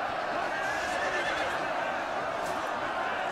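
A horse neighs amid the din of a Medieval Kingdoms Total War battle, a whinny rising over a dense, steady wash of clashing troops and crowd noise, with talk over it.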